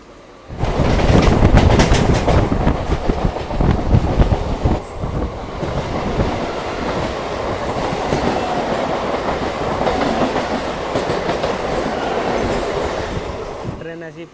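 Crowded Kharagpur-to-Howrah local train running on rails in India, a loud steady rumble with rhythmic clickety-clack of wheels throughout, fading at the end; no talk.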